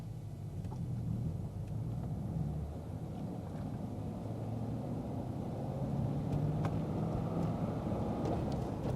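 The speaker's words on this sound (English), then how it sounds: "Clutch is in. First gear, off we go." A 2010 Chevrolet Corvette 3LT with a manual gearbox pulls away in first gear, a steady low engine rumble heard from inside the cabin, fairly quiet and continuous with no talking.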